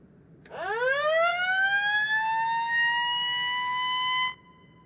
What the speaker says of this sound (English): Let's go to siren number 1, wherever that's at.